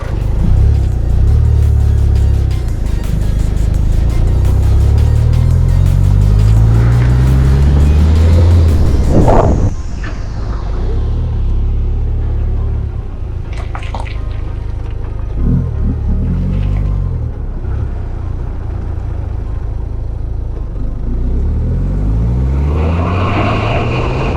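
A car engine fitted with an exhaust valve revs and accelerates loudly through the gears, exhaust droning and rising in pitch, then settles to a lower cruising rumble.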